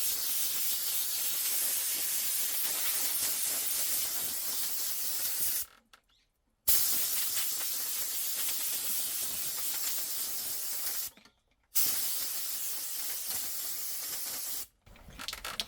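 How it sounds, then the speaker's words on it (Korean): Loud bursts of hissing compressed air from an air compressor blow water droplets off a bonsai tree in three long blasts, each ending in a brief silence. "컴프레셔로 이제 물방울 좀 제거를 해 주셔야 돼요."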